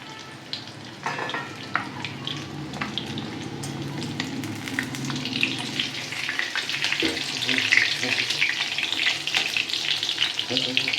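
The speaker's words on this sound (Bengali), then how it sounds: "উল্টে পাল্টে এইভাবে মাছগুলো আমি ভেজে নেব।" Fish pieces fry in hot oil in a pan for a garlic fish dish, giving a steady, close sizzle and crackle throughout, with occasional scrapes and clinks as the pieces are turned over.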